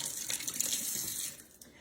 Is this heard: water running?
yes